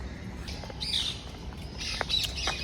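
A parrot in the bird house at Surat zoo gives a few short, harsh squawks, faint and a little distant, over steady background noise.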